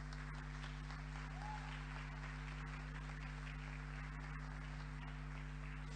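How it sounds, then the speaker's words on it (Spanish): Audience applauding inside a church during a sermon, a sustained wash of clapping at moderate level over a steady low electrical hum, with no voices. "Un aplauso para mi actor principal."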